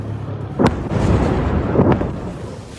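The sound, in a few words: explosions from Israeli strikes in news footage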